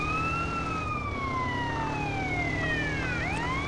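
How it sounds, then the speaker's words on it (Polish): A police car siren in GTA San Andreas wails in long, sweeping tones over a steady engine rumble, the pitch sliding down and then jumping back up near the end. "Nie mam pojęcia, jak to się włącza te syreny."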